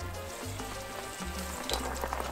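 Quiet, steady crackling sizzle of pork schnitzel frying in hot oil on a Weber grill, with a low hum running underneath.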